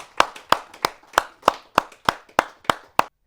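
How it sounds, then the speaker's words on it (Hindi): Clapping at a Hindi poetry and shayari gathering, about ten sharp claps in a slow, even rhythm and close by, stopping cleanly with no talk. "तालियां।"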